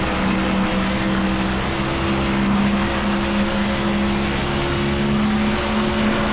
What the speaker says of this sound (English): Here come the other cars.